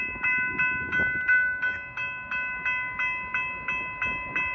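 Outbound Amtrak trains run on the BNSF line west of Chicago, heard as an even, rhythmic clacking of about a dozen beats over a steady ringing tone, fairly close and without speech.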